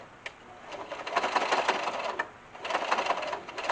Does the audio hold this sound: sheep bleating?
no